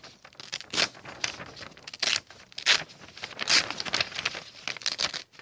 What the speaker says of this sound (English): So rip the extra bit off.